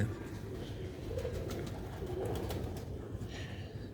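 Purebred pigeons kept in Sialkot coo softly and repeatedly, a low, gentle murmuring heard close but quiet against a faint background hum.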